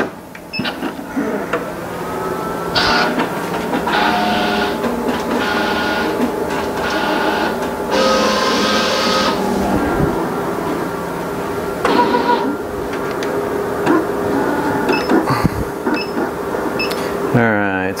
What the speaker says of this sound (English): we will load that sheet in the Graphtec in the machine